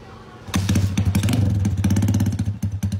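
A modified motorcycle engine starts up close and loud, settling into a rapid, lumpy, throbbing idle with uneven pulses for a few seconds.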